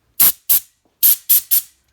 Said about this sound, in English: I got some compressed air, and I'm just going in and blowing out